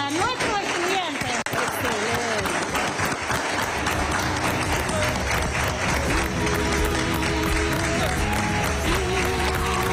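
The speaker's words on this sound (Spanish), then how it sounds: "Un fuerte aplauso para nuestro estudiante." A crowd at a school event applauds a student, loud and sustained clapping with cheering throughout, a voice calling out over the start before the ovation fills the space.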